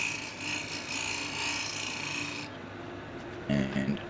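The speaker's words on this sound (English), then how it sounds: "just using the skew here as negative rake and squaring up that corner" A skew chisel held as a negative-rake scraper squares a corner on red ironbark or sheoak spinning on a lathe, giving a steady rasping scrape that stops partway through before a brief louder scuff.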